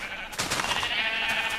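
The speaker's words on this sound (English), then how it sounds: "right now I'm gonna finish shearing these sheep" A Minecraft sheep being sheared gives a short, clear bleat, close and fairly loud, with a couple of wavering pulses in a single call.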